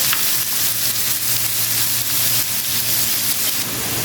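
Chopped onions fry in hot oil with a dense, loud, continuous crackling sizzle like steady rain, unbroken throughout and free of talk.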